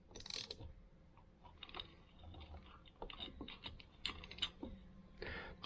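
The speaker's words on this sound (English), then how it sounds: "we'll just rotate the crankshaft forward and watch the screwdriver come up" A Honda CRF150R crankshaft, from a 2009 bike's top-end rebuild, is turned by hand with a screwdriver resting in the cylinder, giving scattered close mechanical clicks and ratcheting ticks in short irregular bursts.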